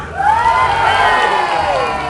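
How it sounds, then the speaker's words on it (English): An audience at a live show cheers and shouts loudly, a dense close burst of voices with whoops that holds for about two seconds. "give us a cheer now!"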